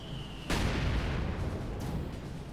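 Panther tank cannon firing at Maxim machine gun positions in the Company of Heroes 2 video game, a single loud boom with a long rumbling tail over steady battle noise.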